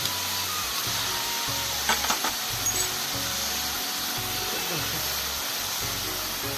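Ash gourd with bay leaf, turmeric, green chili and ginger-garlic-cumin paste frying in a pan, a loud continuous sizzle with scraping stirs of a utensil against the pan, a few sharper scrapes in the middle.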